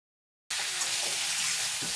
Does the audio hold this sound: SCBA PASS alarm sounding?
no